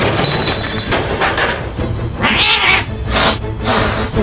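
A woman imitates a cat in an audiobook scene, letting out a harsh, catlike hiss and caterwauling snarl, loud and close, breaking through scuffling sounds of a struggle.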